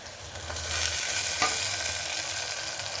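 Tomato and onion being sautéed in oil for veg pulao, a steady close sizzle and frying hiss with stirring scrapes of the spatula throughout, no talking.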